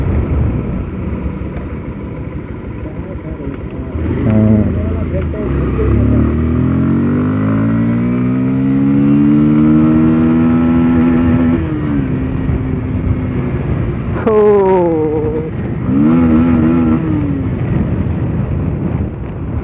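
A new Bajaj Pulsar 150 motorcycle engine revs up, its pitch climbing and holding high before dropping, then two shorter revving bursts follow, loud and close with some wind noise.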